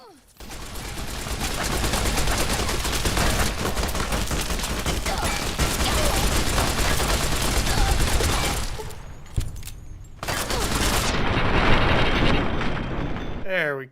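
Sustained heavy gunfire from an invisible shooter in the video game Fallout Tale of Two Wastelands, dense bursts roaring loud and close for several seconds, breaking off briefly, then resuming before cutting out.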